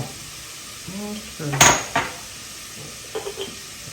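Vegetables being sautéed and stirred in a pan for a quick breakfast dish, heard as a few clinks and scrapes of utensil against cookware over a faint sizzle, with brief clattering bursts amid quiet stretches.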